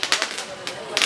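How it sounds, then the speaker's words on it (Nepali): Firecrackers burst during a Diwali (Tihar) celebration in Nepal, several sharp, loud pops cracking in quick succession close by, with no talk. "पटका पड्काउने यहाँनिर चाहिँ चलिरहेको छ"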